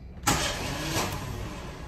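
Starter motor on a Citroën C3 whirring and slipping as it cranks, a sudden loud engagement followed by a steady harsh spinning hiss with a second surge midway, close up and without talk.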